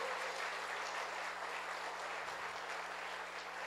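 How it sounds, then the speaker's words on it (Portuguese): Congregation in a church clapping together to praise God, a steady dense wash of applause that holds evenly throughout with no voices over it. "Quem crê nisso, dá um aplauso bem forte ao Senhor."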